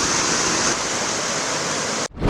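Heavy rain pours down during Super Typhoon Julian in Ilocos Sur, a dense, loud, continuous roar of downpour that cuts off abruptly near the end.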